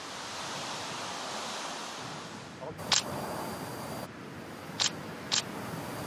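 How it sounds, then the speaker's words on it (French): A glacial river in Iceland flows far below, a steady broadband rush of water with wind noise and a few faint brief clicks and knocks, no talking. "Cette rivière qui coule là en bas, elle vient du glacier qu'on a vu tout à l'heure"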